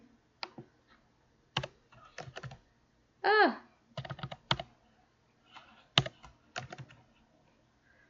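Typing on a computer keyboard in irregular clusters of sharp key clicks, close but fairly quiet, with a short spoken word partway through.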